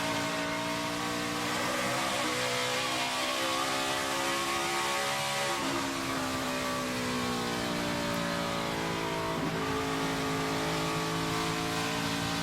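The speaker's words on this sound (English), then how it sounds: "Let's listen to that throttle late in the run." NASCAR race car engine heard onboard during a race, a loud continuous roar whose pitch climbs and falls as the throttle is worked late in the run, with several distinct shifts in engine note.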